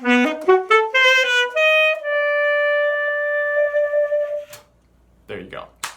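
A classical saxophone played with a classical mouthpiece in a clean straight tone without subtone, rising through a quick run of notes and then holding a long, steady, bright note before fading; brief breathy noise follows.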